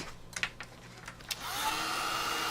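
A dryer blowing steadily over misted paper after spraying, a broadband whooshing hum that starts partway through after some faint handling taps, close and moderately loud.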